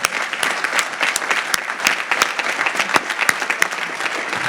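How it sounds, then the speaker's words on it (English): Audience applause at a September 11th memorial ceremony in Westchester County, a loud, dense burst of clapping from a crowd that holds steady without fading. "Matt gets another round of applause."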